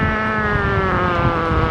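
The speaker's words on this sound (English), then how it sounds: "the engine's being throttled back." A jet airliner engine at Heathrow whines loudly as it is throttled back, its tonal hum sliding slowly downward over a couple of seconds against a broad roar.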